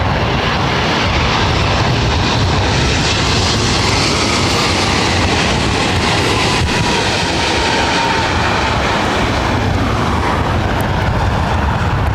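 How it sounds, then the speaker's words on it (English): A United Airlines Boeing 787-10 Dreamliner lands on runway 24 right at LAX, a loud, continuous engine roar and rushing air that swells and holds, heard alone without voices. "starting with a United Dreamliner about to touch down on 24 right."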